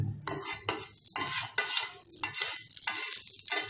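A spoon scraping and stirring melting ghee in a hot pan in quick repeated strokes, over a soft frying sizzle, close up with no talking, while making rava laddu.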